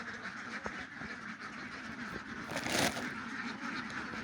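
Egg-laying ducks at a farm quack in a steady, noisy chorus, with a louder burst of calls partway through, heard close and continuous.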